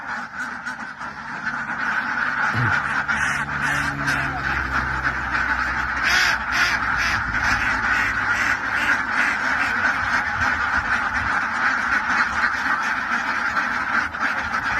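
A big flock of farm ducks keeps up a loud, continuous quacking chorus at close range, with bursts of sharper honking calls in the middle stretch. A faint voice briefly murmurs underneath early on.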